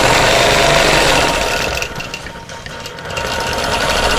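A sewing machine quilts vintage quilt blocks, stitching in the ditch with a loud, close, continuous mechanical whir that eases briefly midway and then picks up again.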